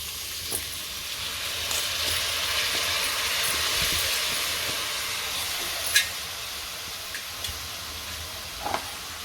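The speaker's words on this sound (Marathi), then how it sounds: "त्या तुपावरती आपल्याला तांदूळ परतायचे आहेत तांदूळ घालते मी बासमती तांदूळच घेतलेले आहेत" Basmati rice is sautéed in ghee for a white pulao in a pressure cooker, giving a steady broad sizzling hiss with a few faint clicks and scrapes, close and continuous.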